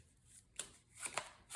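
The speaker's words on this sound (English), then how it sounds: "let's shuffle up our hand, and hopefully we don't lose the Nick Fury here" A hand of cards being shuffled during a solo Marvel Champions card game, Spider-Man versus Ebony Maw, heard as a few quick, close riffling bursts of card friction, fairly quiet, with no talking.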